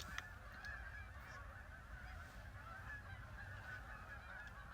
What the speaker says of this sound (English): There's so many geese.